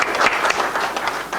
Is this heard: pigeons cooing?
no